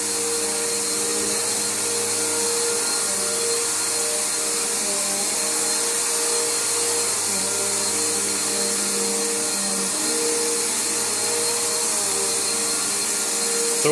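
A Bissell Powerforce Bagged vacuum cleaner runs on a freshly cleaned carpet, a steady loud motor whine with a constant hum throughout, unbroken and close.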